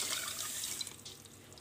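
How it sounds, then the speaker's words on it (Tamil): Liquid masala mixture pours into a pan of simmering dal kofta curry, a steady close splashing gush that eases off toward the end, with no talk. "இப்போ நம்ம கரைச்சி வச்சுருந்த இதை ஊற்றிக்கலாம்."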